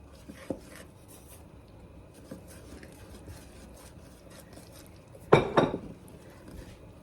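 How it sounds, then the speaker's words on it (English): A spoon stirs strawberry jam with pectin and sugar in a pot, making a few soft, sparse clinks and rubs. Near the end comes a brief, louder burst of scraping against the pot. "And then we are just going to stir, stir, stir continuously."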